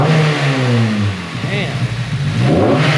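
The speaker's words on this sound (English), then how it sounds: "Freddie, give it some gas" A car fitted with a Fab9 Elite intake revs up close and loud, engine pitch sweeping up and down through a couple of throttle blips with a throaty intake growl, a voice briefly audible underneath.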